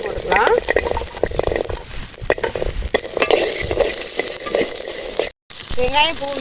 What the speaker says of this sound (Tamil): வெங்காயத்தை போட்டுக்கலாம் வெங்காயம் பூண்டு